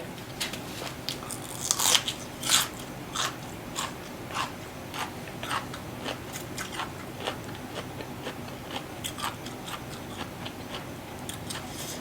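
Crunchy squid and cuttlefish tentacles from a Thai seafood meal being bitten and chewed, giving a steady run of close, sharp crisp clicks and crunches with a few louder bites, no talking.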